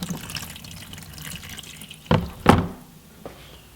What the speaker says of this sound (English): put the hose down into the bucket, and it's just going to start free flowing